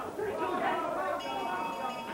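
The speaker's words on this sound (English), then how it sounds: "There goes the bell for the end of the third and final round." A bell marks the end of the third and final round at a 1983 amateur boxing match, Manchester against Belfast, ringing as thin sustained tones over loud crowd chatter in a large hall.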